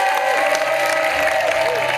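Studio audience applause on an Indonesian dating game show, a steady dense clapping wash with some crowd noise, loud and continuous throughout.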